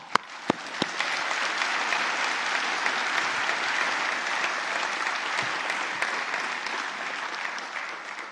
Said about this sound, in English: round of applause for them if you don't mind